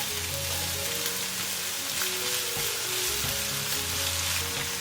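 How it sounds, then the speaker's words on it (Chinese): Minced ginger and garlic sizzle in a wok for salt and pepper pork ribs, a dense, close, continuous frying hiss with faint stirring underneath. "把这个姜末跟蒜末先炒一下"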